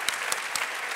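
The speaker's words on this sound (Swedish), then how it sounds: "Vi får klappa lite mer" Applause from an arena crowd at the Årets Kock 2014 cooking competition final, a continuous hall-filling clatter of many hands with a few sharper claps standing out.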